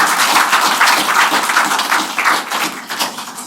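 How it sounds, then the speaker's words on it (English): An audience applauding at a university alumni association panel event, dense steady clapping that carries on at full strength for a few seconds before thinning slightly. "Can you just give them a round of applause?"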